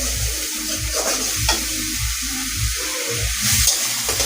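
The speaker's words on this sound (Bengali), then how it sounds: "তেজপাতাটা দিব, তেজপাতাটা একটু ভাজা ভাজা করে নিব।" Bay leaf fries in a pan of oil with a steady sizzle, broken by repeated stirring scrapes in an even rhythm, close by and without talking.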